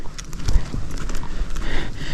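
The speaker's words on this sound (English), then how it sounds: "Downhill can make your horse a little pacey, so we're staying a little slow here." A Tennessee Walking Horse walks downhill on a trail, its hooves striking in a steady, close clip-clop rhythm of several distinct beats, with light rustling between steps.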